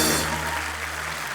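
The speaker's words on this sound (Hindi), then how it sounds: "वरुण और आलिया के लिए जोरदार तालियां" The studio audience of The Kapil Sharma Show, a Hindi TV comedy talk show, breaks into applause. The clapping is steady and full, with a low electrical hum beneath it.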